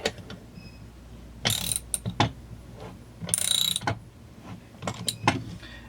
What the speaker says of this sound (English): We're going to take our ratchet and turn this down.